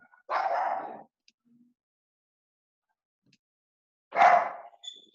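A dog barks indoors, two separate short barks spaced several seconds apart with quiet between them, fairly close and alone.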